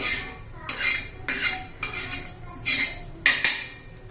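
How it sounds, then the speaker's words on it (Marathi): A spoonful of cumin seeds is dry-roasted in a pan for curry leaf chutney: about six distinct scraping, clinking spoon strokes against metal, separated by quiet gaps, with only a faint sizzle. "थोडं जिरं पण एक चमचा जिरं घेतलं आहे मी जिरं पण भाजून घेते"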